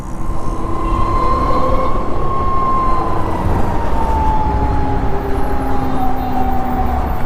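A Raptee T30 electric motorcycle accelerates in power mode, its motor giving a steady, loud whine that slowly drops in pitch over continuous road and wind rumble.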